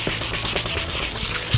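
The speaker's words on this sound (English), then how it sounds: "I'm taking a piece of sandpaper, and I am scratching the surface of this resin." Sandpaper scratching across the surface of cured resin on acrylic art, a continuous gritty rasp with rhythmic back-and-forth strokes, close and fairly loud, no voices.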